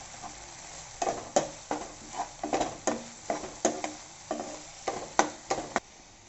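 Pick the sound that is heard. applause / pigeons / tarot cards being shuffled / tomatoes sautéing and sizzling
tomatoes sautéing and sizzling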